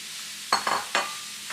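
Fresh mango pieces cook in a good-sized skillet, a few quick scraping stirs standing out over a faint, steady sizzle.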